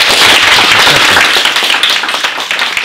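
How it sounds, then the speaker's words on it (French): Audience applause at a school meeting with an Afghan guest, loud dense clapping that stays strong, then thins and fades slightly toward the end. "je pense que vous pouvez applaudir ici à Madame"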